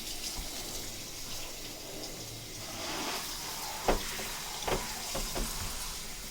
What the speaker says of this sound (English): I'm gonna wash the wall all off